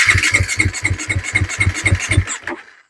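A KTM four-stroke dirt bike, a 350 SX-F or 250 SX-F, cranks on its electric starter after an oil change without firing. About a dozen loud, evenly spaced churning pulses play close up before a final sputter and silence.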